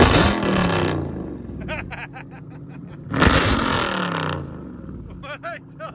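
Chrysler 300 SRT/8 engine revs loudly in two long roaring bursts separated by a quieter idle, with people talking over and between the revs.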